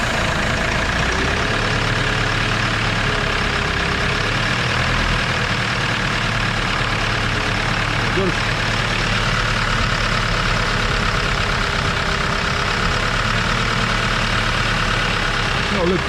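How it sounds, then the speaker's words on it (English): A Kia Sorento 2.5 CRDi diesel engine runs at a steady, rumbling idle close by, its low drone continuous throughout, with faint voice-like sounds mixed in. "Now it's time to start the car up"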